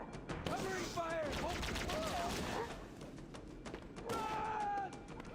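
Halo video game gunfire crackles in rapid bursts, overlapping with shouted voices and game sound effects, fairly faint in the mix with a dense, busy texture.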